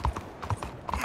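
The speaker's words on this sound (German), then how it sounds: "Wir reiten ja auch ziemlich schnell hier durch." Quick, rhythmic hoofbeats of a horse in the video game Red Dead Redemption 2 clop in a steady galloping pattern, close and moderately loud, with no voices.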